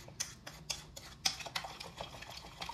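Onion and cucumber being stirred into raita in a bowl, with a run of soft scraping clinks from the spoon repeating steadily for a few seconds, close and fairly quiet, with no talking.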